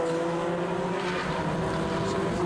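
Race cars accelerating out of the Shell Oils hairpin at Oulton Park, a sustained steady engine drone with layered harmonic tones, moderately distant and constant, without voices.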